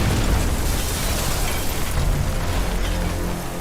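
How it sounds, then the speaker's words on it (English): A violent explosion in a workshop, caused by a plugged-in heater, blows out the windows: a loud, sustained, roaring blast that fades slightly at the end. "a violent explosion blew out windows in the workshop and nearly shook the building apart"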